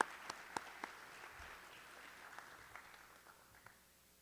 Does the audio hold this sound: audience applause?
yes